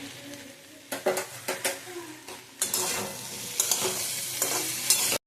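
Raw mango pieces with salt cooking in a pan for a mango jelly chutney, giving a soft sizzle with repeated stirring scrapes and knocks, growing louder and hissier toward the end.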